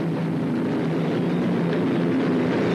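A mini tractor puller powered by an engine from a Centurion tank roars steadily at a tractor pulling event in an indoor hall, a loud continuous drone with a deep hum and no break.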